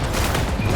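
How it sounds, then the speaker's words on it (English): Gunfire from the video game Wuthering Waves comes as a dense, continuous burst of loud, rapid shots and impact noise, filling the whole short moment without speech. "Let the bullets fly."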